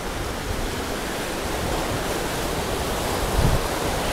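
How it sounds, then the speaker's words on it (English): Continuous broadband rush of flowing water on the Santa Cruz River in New Mexico, steady and fairly loud throughout, with a brief low thump near the end and no talking. "So like, we're on the river now."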